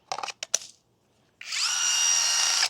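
A cordless INCENDIOS rivet gun mounted on a DeWalt 20V battery setting a rivet: a few short clicks and clacks, a pause, then a loud, close, steady high motor whir lasting over a second before stopping abruptly.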